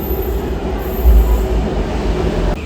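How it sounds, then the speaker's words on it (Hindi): A Hyderabad Metro train rolls loudly into a station, a heavy low rumble of wheels and carriages with a faint high squeal of braking near the end. "तो ये दे रही गाइस हैदराबाद की मेट्रो।"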